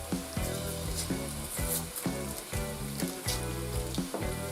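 Butter melting in a hot pan for shrimp pasta sizzles and crackles quietly, a soft steady fizz with gentle rhythmic stirring or scraping underneath.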